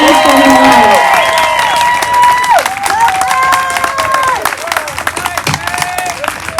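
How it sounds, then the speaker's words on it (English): Audience applause and cheering for the graduating class of 2021 at a school graduation ceremony, a loud sustained crowd with shouts and whistles over clapping that thins toward the end. "Everyone, please give a round of applause to our graduating class"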